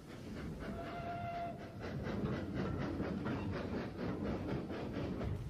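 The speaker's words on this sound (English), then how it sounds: "The train enters Bewdley Tunnel." A heritage train on the Severn Valley Railway enters Bewdley Tunnel, with a steady rumbling roar and rhythmic wheel clatter, and a brief whistle tone early on.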